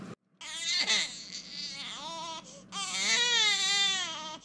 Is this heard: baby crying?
yes